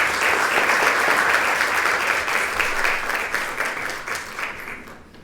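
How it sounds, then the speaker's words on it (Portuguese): A seated audience claps warmly to welcome a professor onto a panel at an academic education and health event, the full applause holding steady before gradually thinning and fading out. "Recebam com uma salva de palmas"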